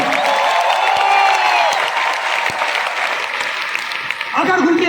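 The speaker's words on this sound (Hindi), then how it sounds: "जोरदार तालियां हो जाए" Dense audience applause fills a large hall at a company event, loud and sustained, with a voice speaking over the clapping.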